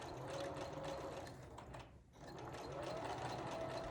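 A sewing machine stitches quilt block fabric in a rapid, even mechanical whir. It briefly slows and pauses near the middle, then runs on at a steady pace, close and fairly quiet.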